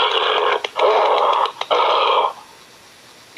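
Loud, harsh, hoarse roaring bursts in three long pulses, broadband and raspy, followed by near silence.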